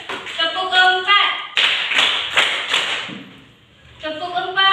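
A group of high school students claps four sharp beats together during a classroom clapping game, the claps loud and evenly spaced, with a voice talking before and after.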